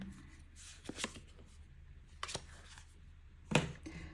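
Quiet riffling and shuffling of cards in a few short bursts, close by, with soft taps between them.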